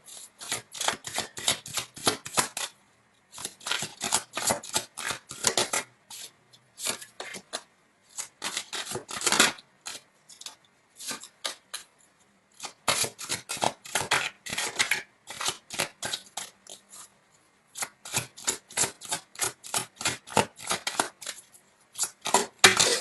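Tarot cards shuffled and laid down in quick bursts of crisp flicking and riffling, close and fairly soft, with short pauses between runs.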